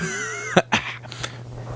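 A single short cough, a quick throaty burst with a second smaller huff, heard close after a faint tone fades.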